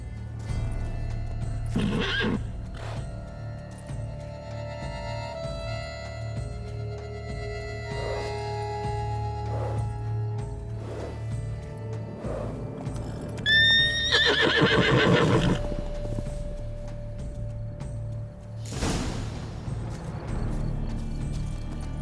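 A horse in the video game Witcher 3: Blood and Wine neighs loudly several times, with whinnies rising and falling over steady clip-clopping hooves and a low background hum.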